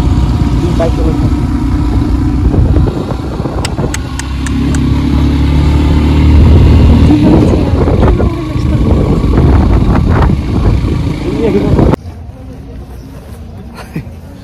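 Motorcycle engine droning steadily while riding a mountain road toward Muktinath in Upper Mustang, loud and close with wind rumble, fluctuating revs, and voices talking over it before it drops off near the end.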